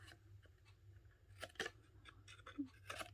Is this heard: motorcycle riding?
no